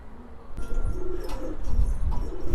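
Pigeons cooing close by as they are released to fly in light rain, soft repeated coos over a low rumble, with a brief sharper flutter of movement.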